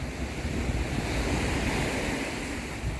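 Arabian Sea surf rolls onto the rocky Somnath shore in a continuous, loud wash of breaking waves with wind buffeting the microphone, and no voices.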